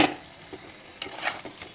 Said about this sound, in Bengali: এবার আমি ভাজা মাছগুলো ওর মধ্যে দেব।